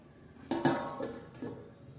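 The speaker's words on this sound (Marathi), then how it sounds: "आपण झाकण ठेवूया." A metal lid set onto a cooking pot of dried bombil fish curry, a couple of close clanking knocks with a short ringing tail, then a softer settling clink.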